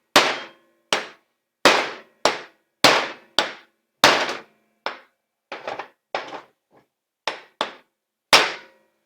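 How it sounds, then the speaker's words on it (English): Sharp metallic hammer taps on a socket drive out a wheel bearing on a Can-Am Traxter XT, ringing one after another in an uneven rhythm, roughly a dozen strikes with brief pauses, close and loud. "you guys probably have a hammer and sockets at home. So we're going to go ahead and give her some taps here"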